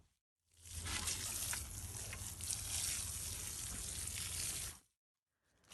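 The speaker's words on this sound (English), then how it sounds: "Time to get the seeds in and water everything in." Water pours steadily onto newly planted seeds in a pollinator garden, a continuous hissing spray that starts abruptly, runs for about four seconds, then cuts off, with quiet before and after.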